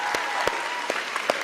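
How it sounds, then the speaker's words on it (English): Audience at a graduate and public service awards ceremony breaking into applause, a steady close wash of clapping with a few sharp individual claps standing out. "let's all give a big round of applause to Associate Dean Michelle LaFaso"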